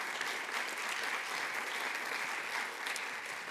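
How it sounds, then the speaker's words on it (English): An audience applauds steadily at a 50th anniversary celebration of a county public art program, a dense, even wash of clapping hands from a large crowd, sustained throughout without pause. "That's a big applause line."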